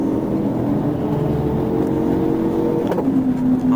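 A state trooper's police car accelerates hard on a highway during a high-speed chase, its engine a steady, loud drone with a rising tone near the end.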